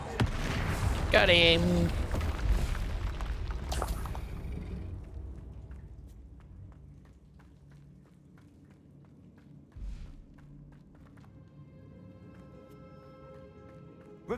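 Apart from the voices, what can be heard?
Bombarda and Confringo spell explosions in video game Hogwarts Legacy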